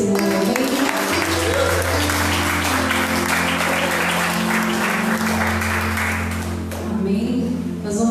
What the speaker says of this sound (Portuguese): E aquele que crê vai aplaudir o Senhor.